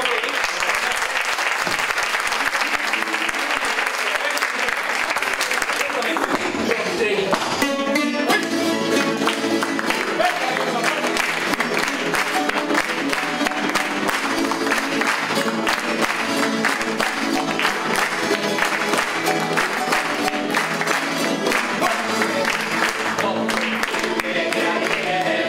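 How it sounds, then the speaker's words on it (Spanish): An audience at a folk group performance in Adeje claps in rhythm along with folk music, loud and sustained throughout, the beat-keeping palms mixed with the band and some crowd noise. "Si quieren, nos acompañan a las palmas."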